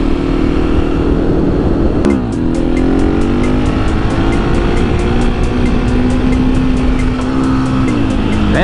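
Motorcycle engine revving hard during a wheelie on a busy road, a loud, continuous close roar with a sharp drop and rising pitch sweeps as the throttle changes, heavy wind buffeting throughout.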